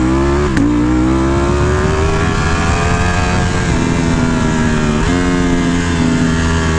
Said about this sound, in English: listen to that fucking exhaust